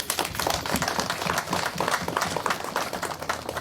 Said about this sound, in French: je voudrais qu'on les applaudisse aussi